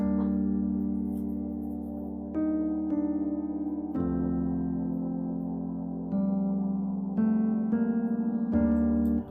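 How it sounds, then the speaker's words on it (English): Sustained piano chords copied from a simple root-and-fifth pad in an amapiano track, changing every couple of seconds in a steady, loud progression with no talking. "And then I added piano, sounds like this."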